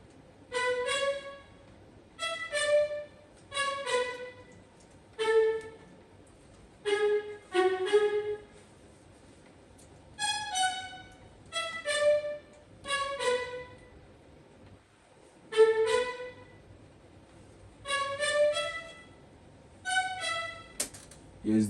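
A plucked string line in a music beat's pre-chorus, sounding in short rhythmic phrases with clear pitched notes and gaps between them, alone without voices.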